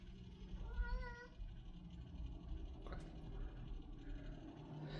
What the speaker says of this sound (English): He sees my cat.